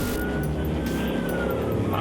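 A police car speeds past on a freeway, its engine a loud, steady roar with a brief siren-like tone riding over the road noise.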